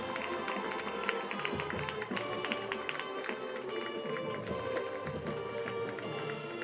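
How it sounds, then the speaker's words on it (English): A high school homecoming football game crowd applauding its nominees, steady scattered clapping from a large outdoor crowd mixed with band tones and crowd noise, moderately distant and sustained throughout. "Let's have another big round of applause for all our homecoming nominees"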